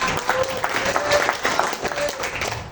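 Applause from a seminar audience, a dense patter of many hands clapping steadily for nearly three seconds, fairly close and even in level.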